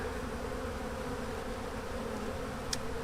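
Honeybees hum in a steady, faint drone inside an opened hive in spring, a continuous buzzing close by with no talk, broken only by a tiny click near the end.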